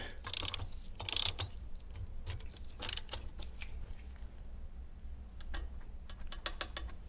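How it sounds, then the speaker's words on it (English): Oil filter on an Acura NSX being tightened with a filter wrench, a run of close ratcheting clicks in quick bursts with short pauses, no voices. "now we're going to go ahead and torque this with the same filter wrench that we used to remove it"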